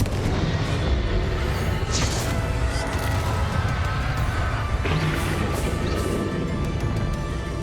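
Confringo spell blasts in the game Hogwarts Legacy during a fight with the dragon Ranrok, dense booming explosions and crashes layered over a constant loud roar of battle noise, no voices.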